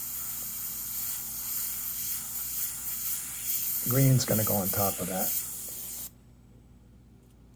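A steady airbrush-like spray hisses continuously, with someone briefly talking over it midway before the spray cuts off abruptly.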